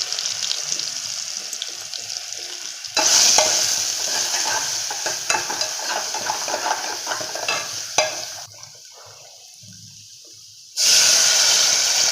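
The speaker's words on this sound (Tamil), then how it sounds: "ரசம் தாளிச்சிட்டோம்." Tempering spices for rasam crackle and sizzle loudly in hot oil, a bright hissing spatter that swells and fades in bursts, drops to a quieter simmer, then flares up again at the end.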